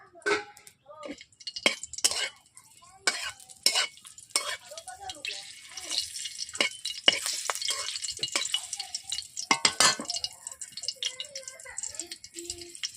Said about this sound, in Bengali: বন্ধুরা আমি প্রথমে কড়াইতে তেল দিয়ে দিচ্ছি। প্রথমে দিয়ে দিচ্ছি কাঁচা লঙ্কা